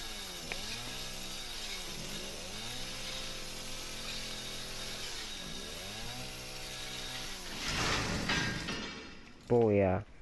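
Chainsaw in the horror video game Resident Evil 7, a loud continuous engine snarl with rising and falling revs in repeated sweeps, surging harder near the end before a brief burst of another sound.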